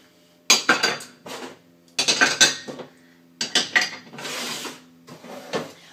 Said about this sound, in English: I'm pressing it into these cupcake pans.